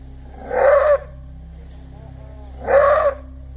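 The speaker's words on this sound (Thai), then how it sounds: "มันเป็นเสียงเห่าดังๆก้องๆที่เรียกกันว่าลอบาร์ก" Two loud, echoing roar-barks from a maned wolf, each under half a second and about two seconds apart, standing out over a low steady background hum.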